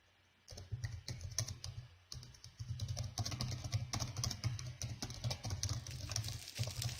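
Rapid computer keyboard typing to chat during a Capture the Flag game, a dense close patter of keystrokes running almost continuously after a short pause, with no talk.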